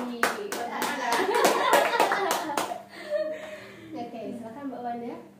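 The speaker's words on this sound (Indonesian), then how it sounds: "Tepuk tangan dulu buat Mbak Dari." A podcast audience gives a short burst of hand clapping for Mbak Dari, a warung penyetan and soto owner. Brisk, close claps last a couple of seconds, then give way to chuckles and talking.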